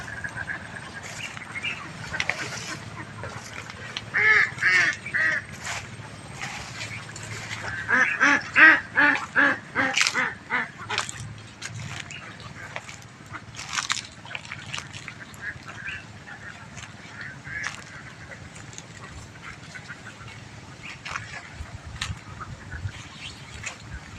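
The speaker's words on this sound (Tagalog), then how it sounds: "Yun, mga itik ko." A flock of ducks quacks at a duck farm with feeding area and pasture nearby, overlapping calls rising into a busy chorus midway, then thinning to scattered quacks over steady outdoor background noise.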